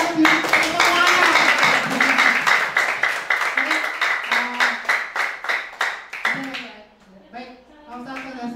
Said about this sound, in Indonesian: mari kita tepuk tangan untuk diri kita sendiri